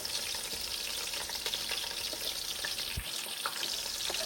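Onions and green onions sizzle and fry steadily in a hot pot for Jamaican ackee and codfish, a dense continuous crackle with a brief stir clatter near the end.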